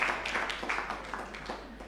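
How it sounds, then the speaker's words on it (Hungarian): A single person clapping at an anniversary gathering: a series of separate handclaps at an uneven pace, fairly soft and somewhat distant, over a faint room hum. "Mert tapsol a feleségem."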